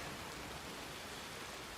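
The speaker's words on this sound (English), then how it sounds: "Rain's really coming down now. It is pissing rain indeed." Heavy rain pouring down steadily in a ranch roleplay video game, a dense unbroken hiss of downpour with no voices.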